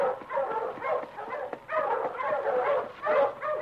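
Several sled dogs, huskies, bark and yip in overlapping bursts, fairly close and continuous, with some whimpering mixed in.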